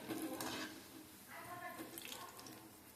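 Tuppara kayi bajji fritters frying in hot oil while being gently stirred and turned, a steady close sizzle with watery bubbling running through the whole stretch.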